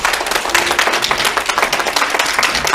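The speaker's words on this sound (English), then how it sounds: "she deserves a round of applause" Applause for an event organizer at a Sunday service of a spiritual living center, a steady crowd of hands clapping fairly loudly and close by for a few seconds.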